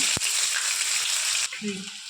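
Chopped onion hits hot mustard oil with dried red chilli in the pan, giving a brief loud sizzle that eases off, with a short voice at the end.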